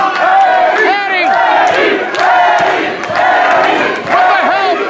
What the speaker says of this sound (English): with the help of the great crowd here, trying to push and encourage Eddie, the champion, to continue to fight